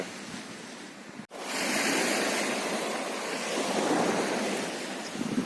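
Surf rolls onto the sand at Sombrerico beach, a steady broad wash of breaking waves close by with wind buffeting the microphone and no voices.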